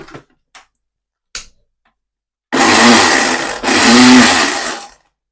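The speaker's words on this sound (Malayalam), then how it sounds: "ഇതെന്താ ടില്ലറാ ഈ മിക്സി സീനാലോ" A kitchen mixer grinder whirs loudly in two bursts of about a second each with a brief pause between, preceded by a few faint clicks and knocks.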